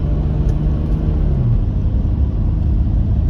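Toyota 1HD-FTE diesel engine towing a load, a steady low drone with a brief pitch dip as it shifts into third gear, close and continuous with no voices.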